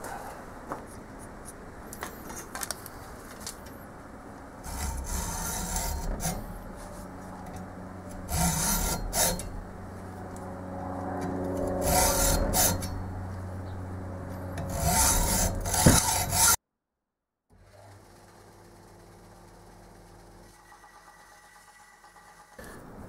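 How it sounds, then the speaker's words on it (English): Rhythmic rasping strokes of hand sanding a compound swivel base part, steady and close, running in bursts for about sixteen seconds before stopping, leaving a quiet hum. "you would not believe just how fast this heats up just by sanding it"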